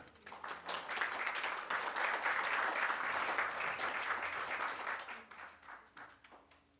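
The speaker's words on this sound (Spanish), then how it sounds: "Un aplauso para ella." Audience at an academic year opening ceremony applauding after a vocal recital, a steady swell of clapping that builds, holds, then fades, heard at moderate distance in a hall.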